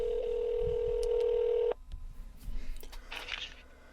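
A telephone on an automated business phone menu: a steady tone holds for under two seconds, then cuts off, followed by faint clicks and a short burst of higher beeps.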